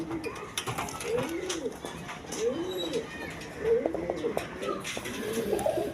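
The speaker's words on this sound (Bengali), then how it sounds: "হাই ফ্লাইং গিরিবাস কবুতর" A high-flying Giribaz pigeon coos in a steady series of rolling, throaty calls about once a second, close by, with clicking and rattling of the cage and faint talk around it.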